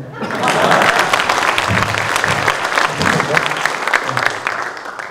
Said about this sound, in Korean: 지금은 박수 안 쳐주시나요?